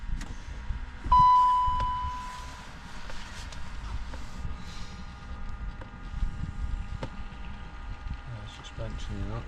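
The ignition of a Range Rover L322 is switched on, and a single clear dashboard beep sounds for about half a second before fading into a quiet cabin with low rumble, faint clicks and a person talking.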